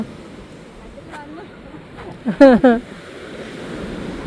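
Sea waves wash up the shore of an island in a steady, low rushing roar, with a few brief voices briefly rising over the surf.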